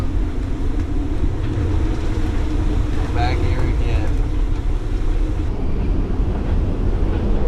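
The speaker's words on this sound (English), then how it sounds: "Gust of 40 right there." Strong wind gust of about 40 knots hits a sailing yacht on passage through the Gulf of Aden, a loud, steady roar of wind and water across the whole stretch while someone speaks briefly.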